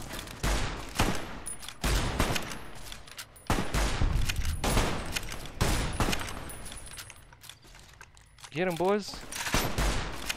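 Rapid bursts of gunfire in Fallout New Vegas on hardcore mode, loud overlapping shots in several clusters, with someone talking over the firing.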